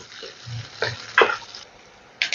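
Onions fry in oil over a high flame with a light sizzle, broken by a few distinct scrapes and clatters of stirring, heard up close with no voices.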